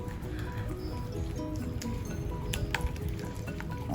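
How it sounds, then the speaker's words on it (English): A whisk beats cake batter for a mawa cake in a bowl, a steady wet squishing and soft clinking of wire against the bowl, close and continuous under low background noise. "We are going to keep whisking it till it forms a sort of homogeneous mixture."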